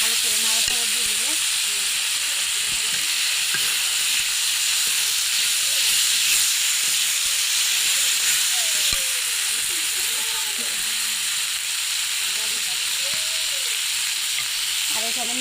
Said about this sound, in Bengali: একটু ভালো করে নাড়াচাড়া দিয়ে দেবো।